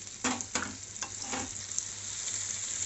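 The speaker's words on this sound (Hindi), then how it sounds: "मेरा मसाला अच्छे से भुन गया है" Steady close-up sizzling of malai kofta spice paste frying in a pan, with a few soft scraping stirs early on and a constant crackling hiss throughout.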